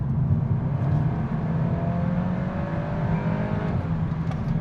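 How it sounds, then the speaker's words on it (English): Volkswagen Golf R Estate engine running steadily while driving on a clear road, a continuous low drone with a faint rising tone and no talk. "Well, there's the engine."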